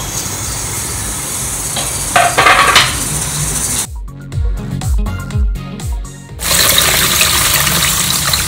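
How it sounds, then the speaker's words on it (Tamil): Cabbage is washed under a running tap in a kitchen, with steady gushing water broken up by a few seconds of splashing and sloshing as the leaves are handled, then a return to the full flow. "கோஸை வந்து தண்ணியில் போட்டு நல்லா வாஷ் பண்ணி எடுத்துருவோம்."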